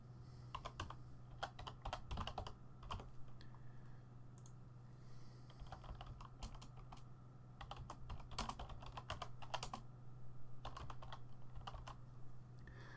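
Fast clattering keystrokes on a computer keyboard come in bursts with short pauses over a steady low hum, fairly quiet and close.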